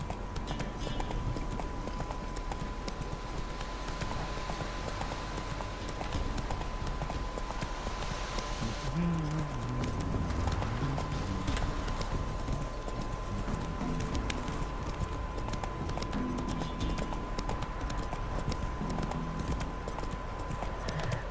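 A horse gallops in The Witcher 3 video game, its hooves drumming a fast, steady clip-clop rhythm that lasts the whole stretch over a constant game soundscape.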